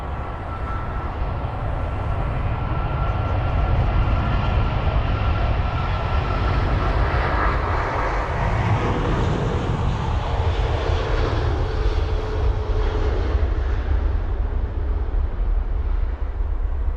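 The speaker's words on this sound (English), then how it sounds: "loud jet this is." A British Airways Boeing 777-200ER jet takes off at London Heathrow with a loud, sustained engine roar. The noise builds and rumbles steadily for the whole stretch, with no voices over it.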